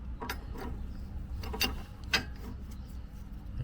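A pipe wrench tightens the tie rods on a 2015 Kia Sedona, giving a series of sharp metallic clicks and ratcheting ticks at irregular intervals over a low background rumble.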